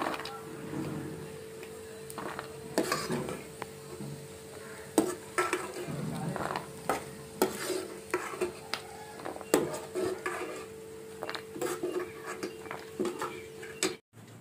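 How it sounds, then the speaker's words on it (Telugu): Dry fruits frying in ghee in a pan while a spoon stirs and scrapes, giving a steady soft sizzle broken by frequent clinks and knocks of metal against the pan, fairly close. "అవి మాడిపోకోకుండా తిప్పుతూ ఉండాలి డ్రై ఫ్రూట్స్ వేగనియండి"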